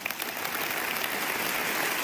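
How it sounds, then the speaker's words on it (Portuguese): Congregation at an evangelical church service applauding together, a dense, steady wash of many hands clapping close and loud throughout. "vamos dar uma salva de palmas para Jesus, pessoal"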